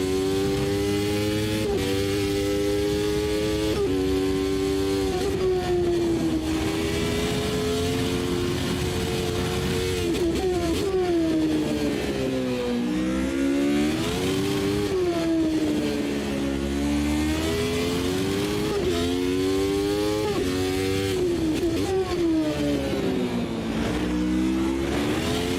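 A race car engine in Automobilista 2 revs loud and steady, rising and falling through gear changes and corner exits over a long continuous run, with no talking.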